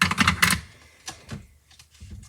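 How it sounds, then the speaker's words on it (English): Ribbon snips trim a length of ribbon during a card-making craft session: a quick cluster of sharp, close cutting clicks, then a few softer scattered taps and rustles. "So I use my ribbon snips to trim that off"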